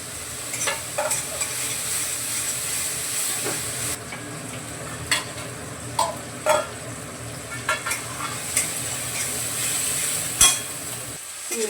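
Garlic and coriander fry in a hot pan, a steady sizzle running throughout with occasional sharper pops and the clatter of stirring, close and moderately loud, no voices.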